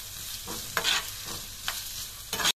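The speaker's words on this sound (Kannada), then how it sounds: "ಈಗ 2 ಸಣ್ಣ ಈರುಳ್ಳಿನ ಹೆಚ್ಚಿಟ್ಟಿದ್ದೆ, ಇದು ಸೇರಿಸ್ತಾ ಇದ್ದೇನೆ. ಸ್ವಲ್ಪ ಇದು ಫ್ರೈ ಆಗಲಿ." Two small chopped onions sizzle and crackle in a hot pan while being stirred, with steady frying hiss and a few louder stirring bursts, no voices.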